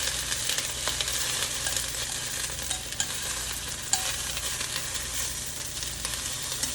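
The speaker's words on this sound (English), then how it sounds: "Remember, I'm only trying to sear all around the meatball." Meatballs sear in a hot pan with a steady, loud sizzle and crackle, broken by a few sharp clicks and scrapes as they are stirred and turned; no voices.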